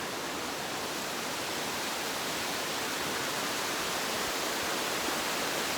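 Waterfall at the foot of a mountain cascade on a hike in the Beaufortain, a steady, dense roar of falling water filling the whole clip at an even level with no voices.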